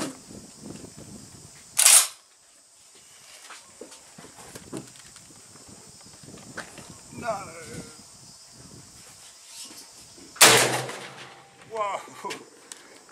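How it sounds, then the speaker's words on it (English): An Adler B230 straight-pull shotgun with an improved cylinder choke fires SG shot at 25 metres outdoors, two sharp loud blasts several seconds apart, with handling noises and quiet talk between them. "we're going to put some SGs through it with an improved cylinder choke on it"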